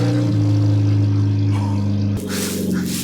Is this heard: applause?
no